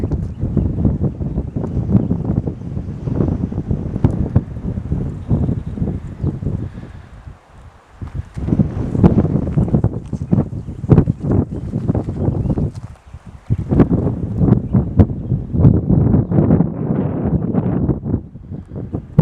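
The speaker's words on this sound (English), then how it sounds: "It's rather windy today." Strong wind buffeting the microphone with a rumbling roar, gusting continuously with brief lulls, no voices.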